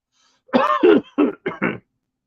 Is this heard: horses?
no